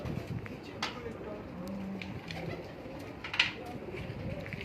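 Pigeons coo softly in a rooftop loft, low repeated calls close by, with scattered wing flutters, rustling and faint background voices.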